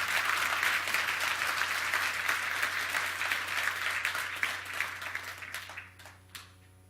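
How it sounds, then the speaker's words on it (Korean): An audience at an entrepreneurship concert applauds loudly with dense, sustained clapping that thins into a few scattered claps and fades out near the end. "각자를 위해서 큰 박수를 한번 쳤으면 좋겠습니다."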